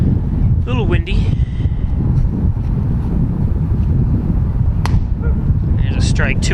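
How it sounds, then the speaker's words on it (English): Wind gusting across an outdoor baseball field during a varsity high school game, a steady broadband rumble buffeting the microphone throughout, with commentary talk and faint crowd sounds on top. "A little windy."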